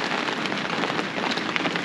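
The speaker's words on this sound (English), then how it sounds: "Yes, it's raining hard now." Heavy rain pours steadily outdoors near a garden and pond, a dense, continuous hiss of drops drumming on surfaces with no talking.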